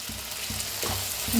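Okra masala with onion, tomato and coriander fries in a pan, a close, continuous sizzle with a few soft, evenly spaced stirring strokes over a short stretch.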